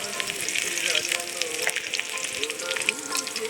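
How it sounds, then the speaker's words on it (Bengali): Chopped onion and garlic sizzle steadily in hot oil with whole cumin, a dense close crackle with occasional stirring, for a crab and Malabar spinach dish. "দিয়ে দিচ্ছি পেঁয়াজ আর রসুন।"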